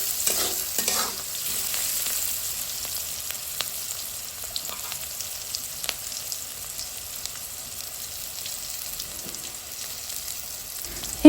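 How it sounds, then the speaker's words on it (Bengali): Turmeric and spices sizzle in a pan for cabbage bhaji while a spatula stirs them, giving a steady soft frying hiss broken by scattered scrapes and clicks. "হলুদ দেওয়ার পর নেড়েচেড়ে আর একটু ভেজে নেব"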